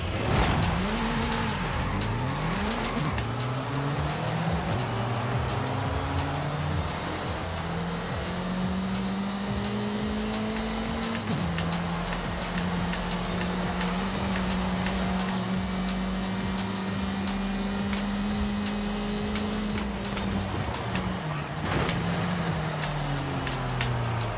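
A racing car's engine in Forza Horizon 5 revs hard throughout, its pitch sweeping up and down through gear changes, with tire squeal and occasional scraping, loud and steady for the whole stretch without talk.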